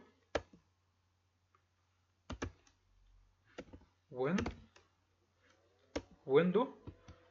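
A computer keyboard typed in short, sparse bursts of clicks separated by pauses, with a couple of brief voiced sounds in between.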